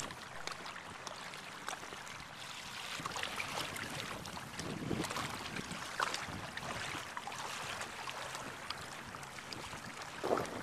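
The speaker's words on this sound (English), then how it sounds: "We're just paddling over to the Florence Filberg, the old wreck" Kayak paddling across Sooke Harbour into a flood tide and wind, a steady wash of water and wind noise on the microphone with faint paddle splashes, close and continuous, with no voices.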